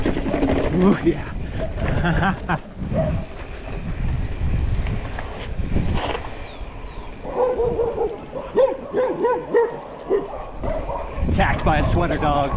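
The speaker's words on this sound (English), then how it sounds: "Attacked by a sweater dog." A small dog in a sweater barks and yips in quick, close bursts on a dirt trail near Cusco, Peru, mixed with rustling and people talking.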